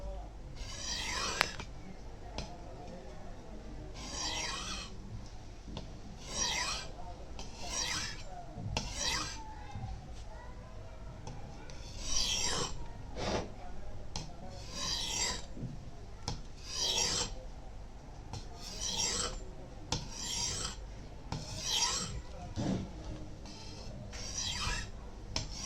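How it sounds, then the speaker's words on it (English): A Nepalese khukuri blade is drawn back and forth across a sharpening stone in repeated rasping strokes, a steady rhythm of gritty scrapes heard close up with a voice talking faintly underneath. "always make sure when you move your blade along the stone"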